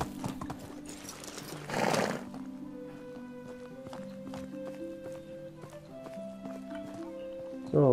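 Steady clip-clop of horse hooves plodding along in the video game Medieval Dynasty, under a layer of game music, with a brief burst of noise partway through and a louder sound at the end.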